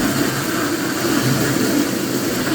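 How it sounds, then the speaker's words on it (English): A Henry vacuum cleaner runs steadily nearby, giving a continuous airy roar and whine that holds an even level for the whole stretch, with no voices over it. "Put your Hoover on."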